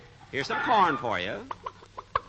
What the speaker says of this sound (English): We got to feed the chickens.